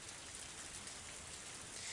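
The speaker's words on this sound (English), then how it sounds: "the cold rain wouldn't warm my body or save me" Steady rain from the Higurashi video game falls in a dense, even hiss, a continuous wash of drops that stays level and close from start to finish, with no voices.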